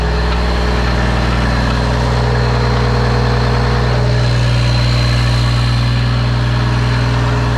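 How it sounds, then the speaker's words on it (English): A vehicle engine running at fast idle, a steady, loud low rumble with a constant tonal hum and slight mechanical texture, no voices over it. "I got him fast idling, and the cruise is working, the fast idle's working."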